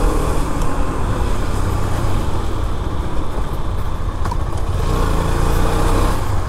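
A Husqvarna Svartpilen 250 motorcycle rides along with a steady, loud engine drone and road noise, continuous throughout with no talking.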